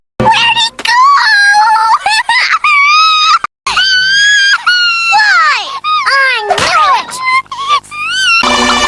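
A voice imitates crying, with high wailing, sobbing wails and whimpers that rise and fall in pitch, loud and close, continuing almost without a break.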